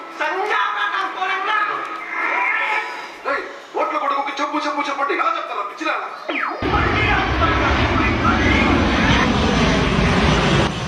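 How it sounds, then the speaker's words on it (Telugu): Low-flying airplanes pass overhead in a village, a loud broadband engine roar swelling in and then holding steady. Voices talk and shout over the noise throughout. "విమానాలు రా కిందకెళ్ళి పోతాన్నాయి"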